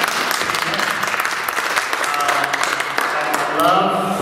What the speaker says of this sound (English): Yeah, you can applaud for this up here.